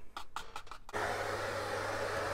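A vacuum cleaner runs while cleaning soot from an oil-fired boiler during annual servicing. A few short bursts of rustling and scraping come first, then the motor starts up and roars steadily and loudly up close.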